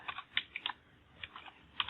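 Quiet keystrokes click on a computer keyboard in short irregular bursts with brief pauses between them.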